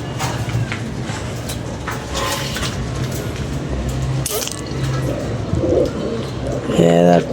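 A pigeon coos in soft, low, repeated calls among household noise, with voices murmuring in the background.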